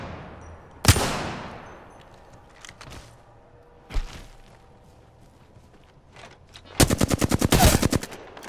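Gunfire in Apex Legends: a few single sharp shots spaced apart, then a rapid burst of automatic fire near the end, loud and close with no talking over it.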